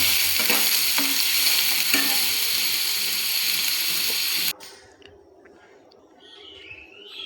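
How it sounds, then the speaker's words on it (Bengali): Chopped carrots fry in hot oil over a high flame for paneer fried rice, a loud, dense, steady sizzle for about four seconds before it drops away abruptly to a quiet background with faint clatter. "এবারে দিয়ে দিচ্ছি কেটে রাখা গাজর। এটাকে আমি হাই ফ্লেমে 1 মিনিট ভাজব।"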